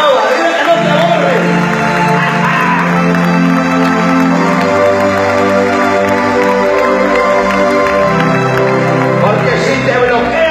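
Church service congregation at an evening campaign meeting claps and cheers loudly over music with sustained tones, a busy crowd noise that persists throughout.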